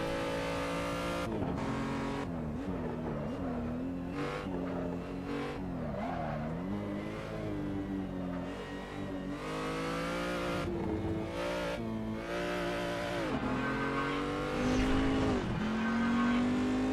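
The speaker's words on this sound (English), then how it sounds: "Okay, the Chevrolet GM Corvette C7.R GTE." A Chevrolet Corvette C7.R GTE race car driven in the Assetto Corsa video game, its engine note climbing and dropping through repeated upshifts and downshifts with occasional tire squeal, loud and close throughout.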